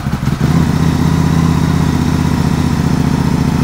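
A Can-Am Spyder engine idles steadily on a cold day around 30 degrees, a loud, close, even low rumble that settles in after a brief start-up surge and holds with no talking.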